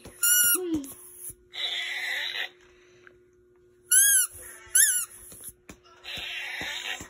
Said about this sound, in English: Squeaky dog toy.